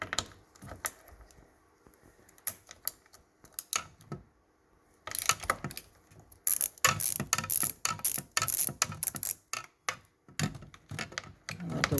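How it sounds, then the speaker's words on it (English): A ratchet tool loosens 10 millimeter side mirror bolts on a 2004 Saturn VUE, making quick bursts of close, crisp clicking with short pauses between runs. "I like to loosen them all up with the tool till they're really, really loose."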